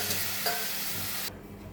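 Cluster beans being stirred in a pan with a little water, a close, steady scraping sizzle that turns noticeably softer and duller partway through.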